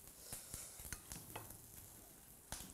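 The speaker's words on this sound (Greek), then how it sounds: "θα το προσθέσουμε και αυτό στη σαλάτα την ώρα που το ανακατεύει" A spoon stirs a salad with chopped spring onion in a bowl, making faint scraping, light clicking and soft tossing sounds, close but quiet, with no voices.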